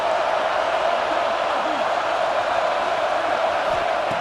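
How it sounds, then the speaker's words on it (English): A stadium crowd roars at a college football game between Ohio State and Miami, a dense continuous wash of cheering that stays loud and steady throughout. "The crowd really making some noise now, trying to help out this defense to get this stop near the goal line."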